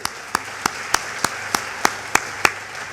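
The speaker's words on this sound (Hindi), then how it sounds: "जोरदार ताली होनी चाहिए।" Steady, evenly spaced hand claps, about nine in three seconds, fairly close and crisp with a light room hiss behind them, from an audience applauding at a talk.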